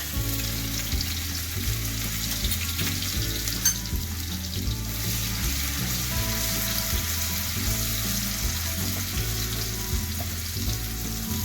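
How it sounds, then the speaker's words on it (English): Chopped green chili and grated garlic sizzle and fry steadily in a hot pan. A continuous hiss runs under the clip, with rhythmic low thumps and scraping as the mixture is stirred. "here we are going to add the finely grated and chopped green chili and garlic"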